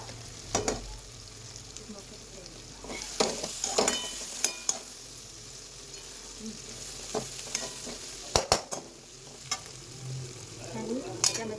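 Green chillies and cumin seeds frying in a pan for pasta, a soft steady sizzle with scattered clinks and scrapes of a spoon stirring, close by and fairly quiet, with no talking.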